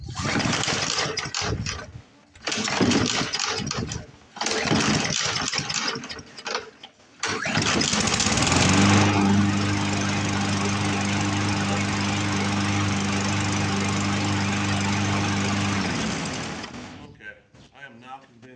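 A small Poulan push mower engine cranks and catches, then runs loud and steady with a rough, uneven edge from a faulty carburetor before cutting out, after stretches of talking.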